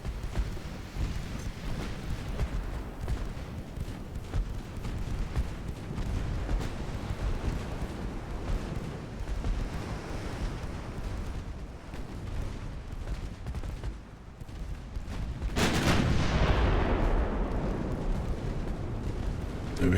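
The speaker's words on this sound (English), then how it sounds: "No hits with the big guns again." Big naval guns firing in the warship game Ultimate Admiral Dreadnoughts, a dense continuous rumble of distant booms, with a louder, sharper blast about three-quarters through that rolls on into a heavy roar.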